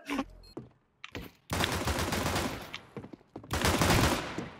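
Rapid video-game gunfire in loud sustained bursts, broken by short pauses and a few single shots, with the volume swelling and dropping between volleys.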